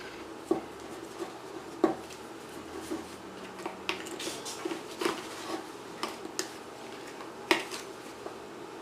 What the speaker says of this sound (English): Use my knife to cut out that edge.